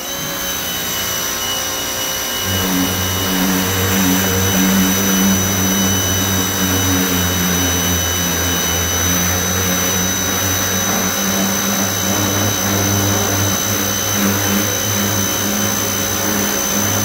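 A pressure washer sprays the front bumper of a car with a ceramic coating, a loud steady hissing roar that holds nearly unbroken from start to finish after a brief quieter opening.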